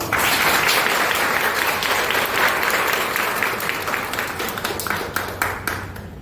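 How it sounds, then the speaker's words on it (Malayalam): A university audience of research scholars and teachers claps for a speaker, dense sustained applause that starts loud and gradually thins into scattered individual claps near the end. "മാമിനെ നമുക്ക് ഒരു ക്ലാപ്പ് കൂടി കൊടുക്കണ്ടേ?"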